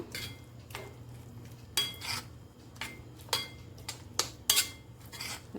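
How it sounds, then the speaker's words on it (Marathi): Moong dal bhaji batter being mixed in a bowl, a series of scraping, clinking strokes at an uneven rhythm, close and fairly loud with a low kitchen hum underneath and no talking. "सर्व मिक्स करून घ्यायचं आहे"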